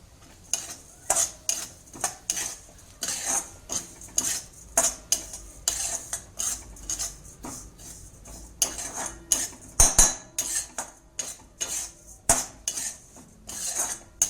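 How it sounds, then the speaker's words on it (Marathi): Cumin, fennel and ajwain being dry roasted in a pan sound as repeated clatters of a spoon scraping and knocking the metal, in an uneven rhythm, with a faint sizzle beneath. "इथे ओवा पण घालत आहे हे सर्व आपण एकत्रच भाजून घेऊया"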